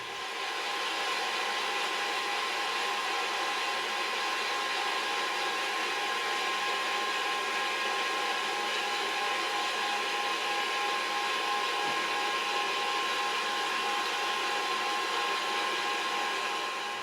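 A hot air popcorn popper roasting coffee beans gives a steady, loud blower whir with a constant tonal hum, running unbroken and without talk.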